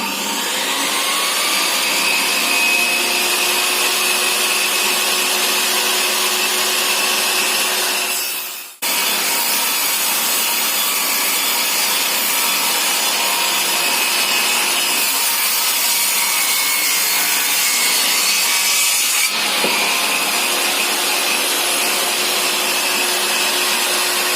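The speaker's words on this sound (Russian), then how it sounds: "Включаем станок и начинаем пилить." A saw machine cutting wooden ceiling lining boards for a frame house, a loud continuous whining cut that runs for about nine seconds, drops briefly, then resumes, with no talking.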